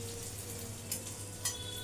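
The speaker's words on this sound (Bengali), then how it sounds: "আর একটু সিউই দিয়ে ভেজে নিলাম।" Vermicelli (semai) frying in a pan with a little oil, a steady soft sizzle with faint crackles and a couple of brief stirring scrapes, close and alone.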